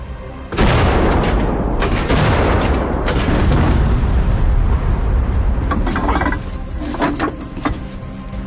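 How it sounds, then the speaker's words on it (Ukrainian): Repeated heavy M101 howitzer booms, several loud deep blasts in succession with rumbling echoes trailing between them, recorded outdoors fairly close. "Постріл! Постріл!"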